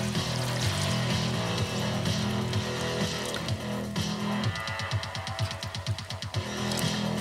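Water pours into a pan inside a Weber kettle grill, a steady splashing gush that turns to gurgling bursts near the end, heard close up over background noise.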